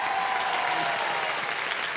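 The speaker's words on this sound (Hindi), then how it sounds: "जोरदार तालियां बज जाए एक बार मेरे के लिए" A studio audience at a celebrity quiz show applauds steadily, a dense, even wash of clapping throughout.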